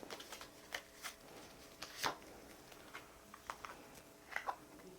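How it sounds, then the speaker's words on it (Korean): Cards being shuffled and drawn for a tarot-style card reading, soft papery flicks and riffles in scattered bursts, close and quiet with no talking. "제가 좋은 카드 한번 뽑아 보겠습니다."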